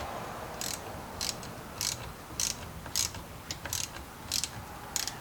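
A ratchet with a 13mm socket tightens bolts on a puller while working on a 1994 S10 Blazer 4x4, giving quick bursts of clicking in an even rhythm roughly twice a second, close but fairly soft, with no voices.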